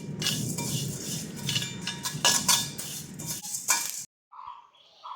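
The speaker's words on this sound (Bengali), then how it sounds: "আমরা আচার বানানোর জন্য প্রথমে এই শুকনা মশলাগুলো ভেজে নিচ্ছি।" Dry panch phoron spices roast in a pan for mango pickle, with a busy clatter of a spoon scraping and stirring against the metal for about four seconds before it stops abruptly.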